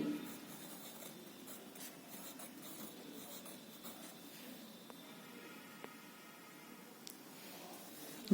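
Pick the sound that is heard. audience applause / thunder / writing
writing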